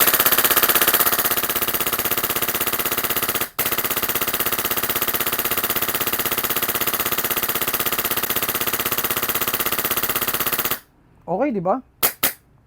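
An HPA airsoft gun with a Nexxus engine fires full auto in one long, loud, dense burst that stops once briefly, then a short spoken remark and a few faint clicks follow.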